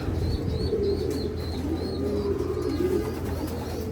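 Pigeons coo repeatedly in a loft where the flock is recovering from a virus, soft overlapping calls over a continuous low murmur with faint higher chirps.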